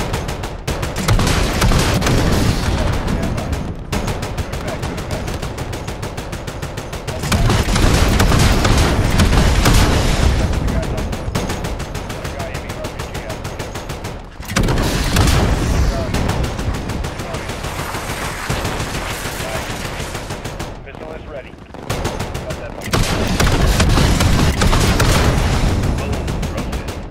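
Heavy gunfire and artillery roar in Call of Duty: Modern Warfare, with dense machine-gun bursts, booming blasts and rolling explosions in loud sustained waves over nearly half a minute, broken by brief pauses, with occasional voices underneath.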